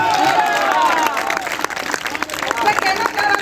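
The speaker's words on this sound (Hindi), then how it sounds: "मुझे भी तालियों की गड़गड़ाहट" Applause and clapping from an audience at a Hindi kavi sammelan poetry gathering, a dense steady wash of many hands with crowd murmur and cheering mixed in throughout.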